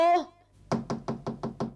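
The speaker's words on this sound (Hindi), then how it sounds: "ए कोको, दरवाजा खोलो, मैं हूँ नीनी।" Six sharp knocks on a door in a steady rhythm, close and distinct, following a brief spoken voice.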